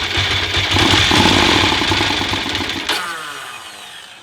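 A Ducati motorcycle engine running rough with a fault, a loud close buzzing idle that swells, then abruptly cuts out, leaving a fading mechanical ring and quiet.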